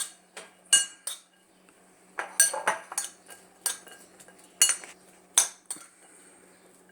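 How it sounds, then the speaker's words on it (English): Garlic being stirred into a bowl of homemade salsa with jalapeno, heard as a series of light metal-on-dish clinks and scrapes in an irregular rhythm, fairly close and fairly quiet, with no talking. "Now on the salsa, I'm going to stir in that garlic that I put in last."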